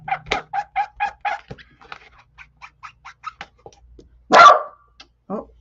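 A dog lets out a single loud, close bark after a run of rapid, faint squeaky chirps in a quiet room.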